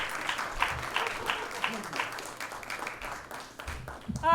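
A comedy club crowd claps steadily for a comedian leaving the stage, a moderate, somewhat distant wash of applause with scattered voices, ending in a loud rush of noise close to the microphone.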